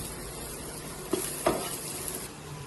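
Ginger and onion sizzle in a pan as they are stir-fried, a steady frying hiss broken by a couple of brief stirring clatters, with no voices.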